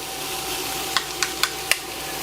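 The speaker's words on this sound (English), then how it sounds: "That's starting to saute nicely, right?" Lamb sautéing in ghee in a hot pan: a steady broadband sizzle with a faint hum, broken by four sharp spattering pops in quick succession near the end, close and clear, with no talk.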